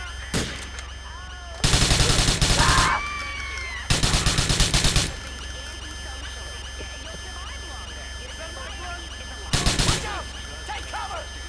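Bursts of automatic gunfire ring out during an attack on a police station in a GTA video game: three dense volleys of rapid shots, each lasting about a second, over a steady game ambience with scattered distant reports.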